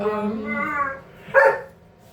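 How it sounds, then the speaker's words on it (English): A dog barks a few times close by, with a short burst of yips, over a person talking. "excuse the dog"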